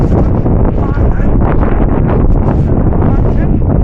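Strong outdoor wind buffets the microphone in a loud, continuous roar with gusty fluctuations, near and dominant throughout.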